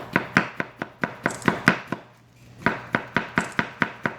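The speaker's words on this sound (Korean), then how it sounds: "자, 자 일단 감자 썰어서 시범 한번 보였어요" Knife slicing a raw potato into thin slices on a cutting board, a loud close series of rapid, crisp chops in steady rhythm with one short pause midway, no talk.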